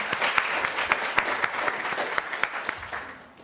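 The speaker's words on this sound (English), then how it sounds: "I wonder if we might have a round of applause for Allison." Audience applause at a New School poetry reading, a dense round of clapping from a moderate crowd, steady and fairly near, fading toward the end with no talk over it.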